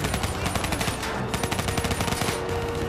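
Rapid gunfire from the Black Ops 3 campaign: dense bursts of automatic weapon shots rattling close and loud, with overlapping fire and distant explosions throughout.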